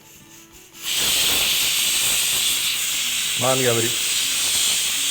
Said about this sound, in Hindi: pressure cooker